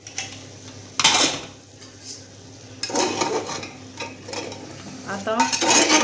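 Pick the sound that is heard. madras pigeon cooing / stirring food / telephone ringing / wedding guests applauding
stirring food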